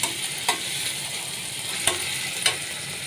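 Steady hiss of food frying in a pan while upma-style pindi is stirred, with a few sharp scrape clicks from the spoon against the pan rising above the continuous sizzle.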